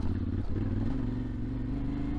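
A 2023 Yamaha Tenere 700 World Raid motorcycle with its stock exhaust gives a close, throaty low engine rumble that shifts up in pitch partway through, then holds a steady droning tone.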